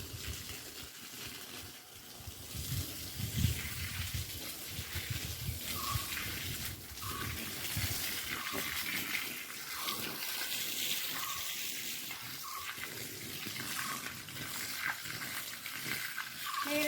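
Water pours steadily onto dry soil in a garden plant bed, a faint, continuous splashing gush that runs unbroken with small fluctuations and no talking.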